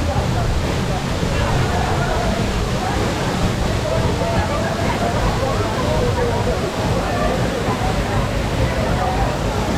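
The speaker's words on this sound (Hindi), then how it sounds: "इसका पानी चट्टान से टकराए बिना सीधे नीचे गिरता है।" A waterfall in Uttarakhand, India, whose water drops straight down without striking rock, roars in a constant, dense rush of falling water, loud and unbroken throughout.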